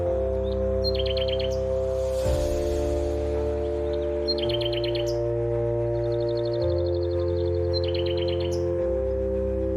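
Birds call and chirp in short repeated bursts through the Amazon rainforest, where macaws are found. A steady low musical drone and hum runs underneath the calls throughout.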